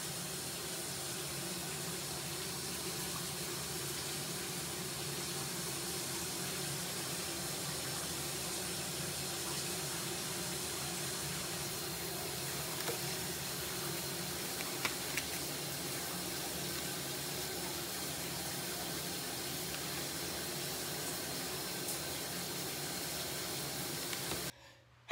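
A shower runs steadily for about twenty-five seconds, a broad, even hiss of spraying water with a few faint knocks and clicks, cutting off abruptly at the end.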